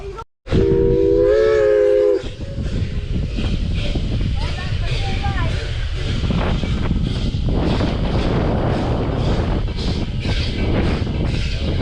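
A Nevada Northern Railway steam train in Ely, Nevada, gives a short loud whistle blast near the start, followed by steady rumbling, hissing and wind noise from the moving train, with voices talking over it.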